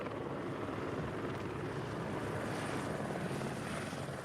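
A helicopter hovering and flying over an island, its rotor chop and engine drone a continuous, even roar throughout, fairly distant and alone.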